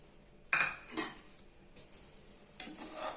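Spoon scraping and clinking in a pot as salt is stirred into seeraga samba chicken biryani with its water, a few sharp metallic knocks followed by softer rubbing strokes, close and without talking.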